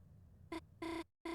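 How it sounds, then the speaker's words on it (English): A phone rings in the Deltarune video game, giving two short electronic trills and then a longer one with brief silence between them, set against a low background hum. "Sorry, phone call."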